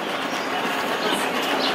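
Train standing at a station as boarding opens, a steady broadband rumble and hiss of the rail platform environment with faint bird cooing mixed in, continuous and fairly loud.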